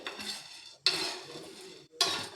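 Chana dal dry-roasting in a pan, stirred with a metal utensil: three long, rasping scrape-and-rattle strokes, close and clear, separated by brief pauses.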